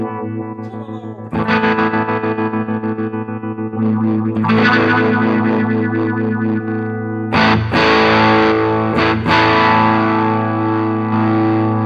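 An electric guitar with Univibe effect through a small NUX Mighty Air practice amp: three sustained chords, each warbling and pulsing with a throbbing modulation, close and loud.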